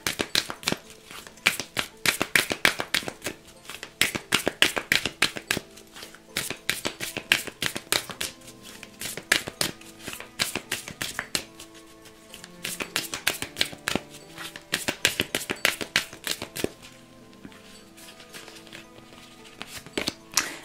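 Oracle cards for a reading being shuffled by hand, a fast, steady stream of close, crisp riffling flicks that keeps going in long runs with brief pauses between them.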